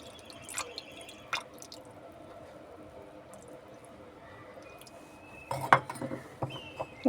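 Water poured to bathe a Shiva idol at a home puja: quiet, scattered drips and small splashes close by, with a livelier burst of trickling near the end and no speech.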